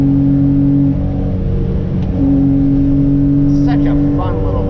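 A small Honda Beat kei car drives along an open road outside a city, its engine humming steadily and loud, briefly climbing in pitch while another vehicle passes, with voices talking over the drone.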